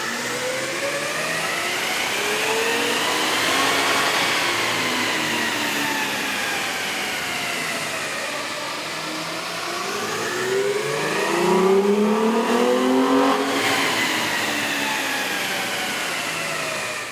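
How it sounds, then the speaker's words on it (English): Toyota Tacoma 4.0L V6 truck with a K&N air intake running on a dyno, engine note sweeping up and down through repeated accelerations, loud and continuous with a rising intake roar. "we ran the vehicle on the dyno to test the sound comparison versus the stock intake"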